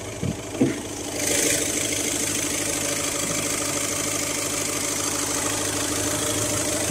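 An Audi A1 Sportback's engine idles steadily with a mid-pitched hum and light knocking vibration, preceded by a few brief clunks near the start, with no talking.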